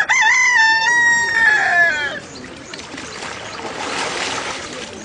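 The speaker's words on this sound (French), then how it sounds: "un coq a salué son baptême" A rooster crows loudly and close by at an early-morning outdoor baptism, one long wavering cock-a-doodle-doo lasting about two seconds, followed by noisy ambient rumble and wind.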